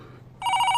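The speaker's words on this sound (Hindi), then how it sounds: "ये लो घंटी बजी" An old-style telephone bell rings loud and steady after a short quiet lead-in, the sound of a call reaching an office phone.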